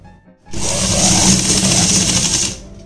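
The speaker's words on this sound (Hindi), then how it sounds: "ये मैंने इसको आधा इंच बाहर से सिलाई लगा दी है।" A sewing machine runs in one steady burst of about two seconds, stitching a half-inch seam on a palazzo pocket, loud and close with a constant whirring drone and no talk.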